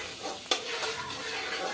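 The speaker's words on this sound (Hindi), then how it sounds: "अब हम इसमें आलू डाल लेंगे। और इसे ब्राउन होने तक फ्राई करेंगे।" Potatoes fry in a pan until browned, a continuous bright sizzle with a single sharp scrape of the spatula partway through, close and steady.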